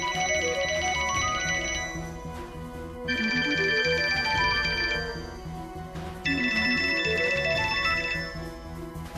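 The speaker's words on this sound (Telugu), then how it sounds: "ఈ టైంలో ఫోన్ చేస్తుంది?" A telephone rings in three loud electronic bursts, each with a rising and falling melodic tone pattern, heard alone in an indoor domestic scene.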